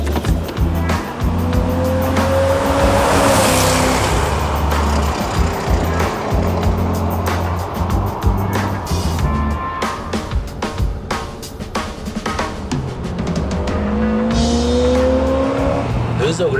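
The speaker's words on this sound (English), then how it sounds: "this car doesn't like if you don't drive really fast." An Iso Grifo two-seater sport coupe is driven hard and fast, its engine roaring and revving up and down with tyre noise and swells of loud rushing sound, close and continuous.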